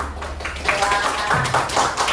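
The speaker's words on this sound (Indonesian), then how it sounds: "Bagus, tepuk tangan." Classroom clapping from students, a patter of hand claps mixed with voices talking over it throughout.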